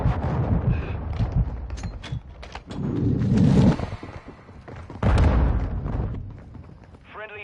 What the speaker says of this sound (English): Friendly cruise missile approaching target.